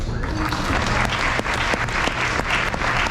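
A hall audience at a high school senior awards ceremony applauds academic excellence award winners, a dense, sustained crowd clapping that stays steady for several seconds.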